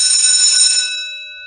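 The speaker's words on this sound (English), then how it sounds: "The bell rings," A school bell rings once in a classroom, a bright metallic clang with sustained ringing overtones that decay smoothly after a brief burst, loud and close with no voices.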